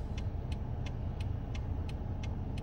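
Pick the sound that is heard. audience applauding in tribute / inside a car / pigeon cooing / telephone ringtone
inside a car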